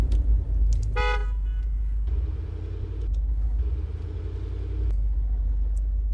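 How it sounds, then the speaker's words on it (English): A car horn in the survival game 7 Days to Die gives one short, bright honk over a deep, rumbling vehicle engine that keeps droning loudly throughout. "Alright, so honk your horn."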